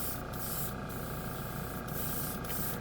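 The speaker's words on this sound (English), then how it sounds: "It's performing really well in this airbrush." An airbrush sprays Alclad chrome paint over a colored base coat in close, even hiss, with short bursts of stronger airflow at intervals and no voices.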